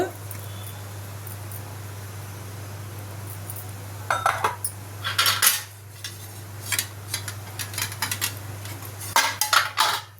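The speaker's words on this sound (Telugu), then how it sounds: "ఇడ్లీ ప్లేట్కి కొంచెం నూనె రాస్తున్నా" Oil is wiped onto metal idli plates for Telugu-style jowar idli, with soft scraping and light metallic clinks building into a cluster of small clatters over a steady low hum.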